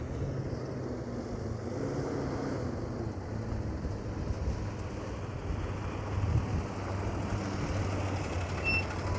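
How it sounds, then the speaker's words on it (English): A tow truck arrives at a crash scene in Hesperia after a police pursuit, its engine rumbling and idling steadily with outdoor traffic noise throughout and no talk. "here's the first tow truck just arriving on scene"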